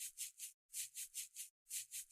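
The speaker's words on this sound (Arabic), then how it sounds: "هنبدأ نصنفر بالصنفرة الخشنة الأول في ضهر القطعة" Coarse sandpaper rubbed over the back of a cast concrete piece in rhythmic back-and-forth strokes, three passes at a time with short pauses between, loud and close with a gritty hiss and no talk.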